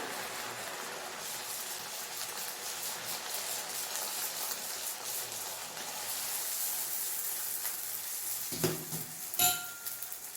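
Achu murukku batter fries in hot oil with a steady, dense sizzle that runs throughout, with a couple of brief knocks of a metal mould near the end.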